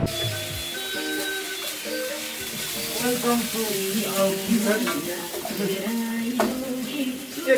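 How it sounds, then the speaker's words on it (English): Fried noodles sizzle and fry in a pan at a mountain lodge near Annapurna Base Camp, Nepal, a steady, fairly loud crackle with stirring and scraping over a continuous hiss. "Ah, fried noodle, my favorite."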